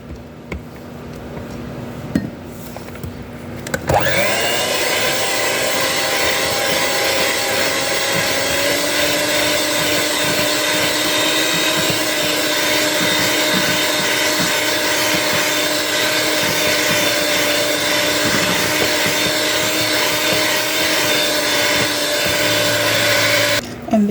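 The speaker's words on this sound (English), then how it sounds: "we're going to add in our coffee concentrated that we are using, and we're going to give it a mix" Electric mixer whipping buttercream with coffee concentrate, switching on after a few quiet seconds into a loud steady motor whine that runs unbroken to the end.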